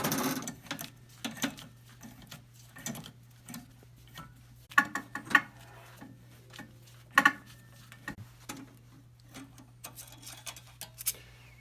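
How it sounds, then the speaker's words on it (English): A 3/16 T-handle Allen wrench loosens hex head bolts on an Antunes GST-1H platen lock assembly, giving sparse close metallic ticks and clicks between quiet stretches over a faint steady hum. "use a 3/16 Allen wrench, T-handle preferably, and remove the two supporting hex head bolts"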